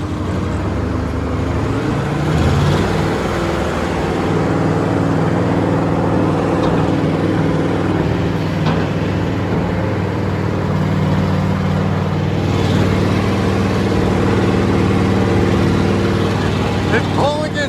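Allis Chalmers 440 tractor, restored and rated at 160 horsepower, lugging down in fourth gear while pulling a ripper: a steady, loud low engine drone that runs unbroken throughout, with faint voices in the background.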